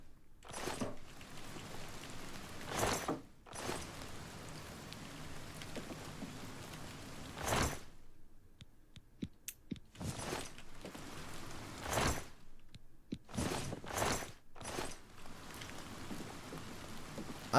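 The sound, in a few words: rain in a video game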